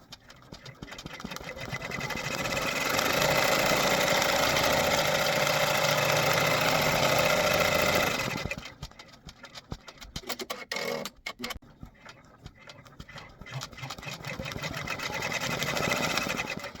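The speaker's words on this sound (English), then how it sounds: "press start, and now it's going to do the tack down stitch" A home embroidery machine stitching a tack-down stitch onto a shirt, a fast steady mechanical whirring and ticking that stops midway, followed by a few clicks and then restarts.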